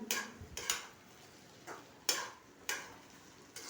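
Potato being stirred into onions in a pan for a home-style vegetable dish, with a few sharp spoon scrapes and clacks against the pan, spaced irregularly and fairly close.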